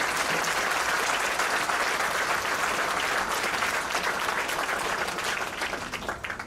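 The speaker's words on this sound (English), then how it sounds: "let's give him and all our recruiters out there a round of applause" An audience at a Marine Corps graduation applauds in honor of the recruiters, a dense, sustained roar of clapping from many people that holds steady and begins to thin out in the final second.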